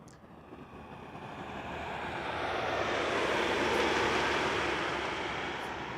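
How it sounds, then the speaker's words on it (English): A Boeing 747-8 Cathay Pacific Cargo jet arrives at Amsterdam Schiphol, its engine roar swelling from a distant rumble to a broad, loud rush, then holding steady as it passes, with no voices. "It is a Boeing 7478 Cathay Pacific Cargo, flight 2067, also arriving from Dubai"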